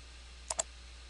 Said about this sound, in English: You click Next